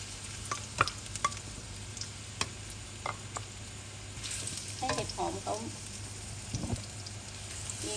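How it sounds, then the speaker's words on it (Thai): Shiitake mushrooms stir-fried in a little oil give a faint, steady sizzle with light clicks and spatula taps, and brief soft voice-like sounds come in partway through. "จากนั้นให้เรานำเห็ดหอมลงมาผัดค่ะ"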